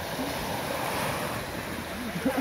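Sea surf washing onto the beach at Władysławowo on the Polish Baltic coast, a steady broadband roar mixed with wind buffeting, with faint voices near the end.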